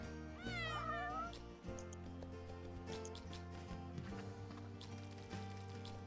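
Cats meow in the video game Find Matt's Cats, a few drawn-out rising and falling calls near the start, then quieter mews over steady game music.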